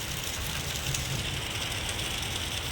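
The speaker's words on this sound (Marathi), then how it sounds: "चार दिवस झालं कंटिन्यू पाऊस आहे" Continuous monsoon rain, four days running, patters and hisses steadily on surfaces nearby, an even wash of sound with no breaks.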